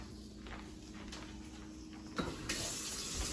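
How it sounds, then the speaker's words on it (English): Kitchen tap water running steadily while pork chops are rinsed, with a few brief splashes and clatters as the flow changes near the end. "So you're going to wash your pork chops off."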